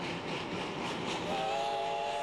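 A steam locomotive train runs with a dense continuous rumble and rattle, loud and close, and a steam whistle tone joins in partway through.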